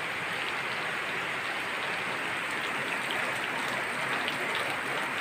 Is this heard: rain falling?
yes